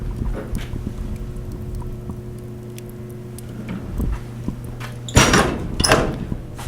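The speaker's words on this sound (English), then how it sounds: "Turn around, stove door," The firebox door of a Central Boiler CL5036 outdoor wood stove under a lean-to opens with a pair of loud metallic clanks and scrapes near the end, following a low, steady mechanical hum.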